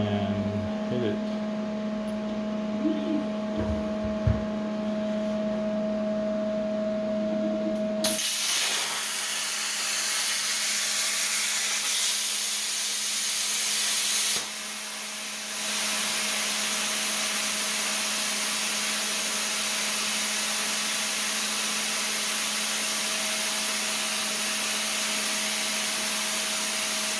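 An ArcDroid plasma torch cuts 1/4 inch steel at 45 inches per minute: after a low electrical hum, a loud, steady broadband hiss-roar starts abruptly and runs continuously, dipping briefly for a moment midway.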